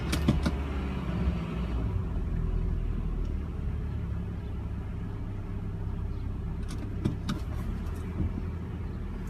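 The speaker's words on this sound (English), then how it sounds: "I'm going to move my car back a little bit." A car is moved back a short distance on a street, its engine a steady low rumble close by, with a few faint clicks and knocks over the drone.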